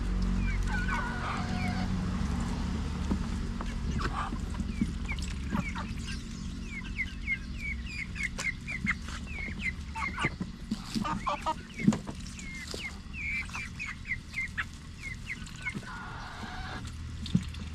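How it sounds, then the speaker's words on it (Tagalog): Chickens cluck in a backyard garden, with a run of rapid chirpy clucks mid-way and scattered calls throughout, over a low steady rumble of background noise, without speech. "Yung mga manok natin na galing sa kulungan mga katunying, yung mga brown, hindi sila marunong maki-join"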